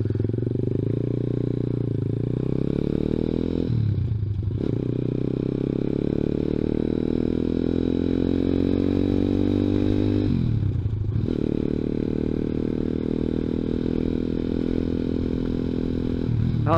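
Close, loud drone of a small 50cc scooter engine pushed hard at high speed, nearly 50 mph. The pitch holds steady but dips briefly twice, as the throttle eases and then picks back up, with no talking.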